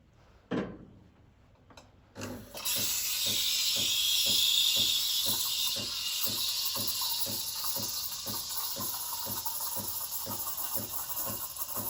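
A Breville Barista Pro BES878 steam wand hisses steadily into a jug of milk after a short opening click and puff, with the frothing noise steady and close and a faint regular ticking pulse beneath it.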